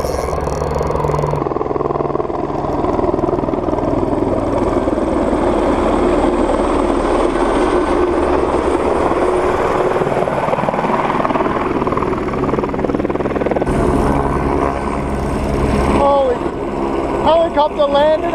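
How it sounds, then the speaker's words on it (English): A helicopter landing close by during a fishing trip makes a loud, steady rotor thumping and turbine whine that dominates throughout, shifting in pitch near the end as it settles, with voices talking underneath. "Helicopter landed as we were catching a fish."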